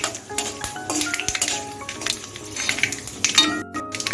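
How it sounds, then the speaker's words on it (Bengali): A spice tempering with a torn bay leaf fries in a pan for Bengali jhinge shukto, with a soft sizzle under frequent metal clinks and scrapes of a spoon against the pan, close and busy. "ফোড়নটা আমি এখন একটু ভেজে নিচ্ছি 30 সেকেন্ডের মতো"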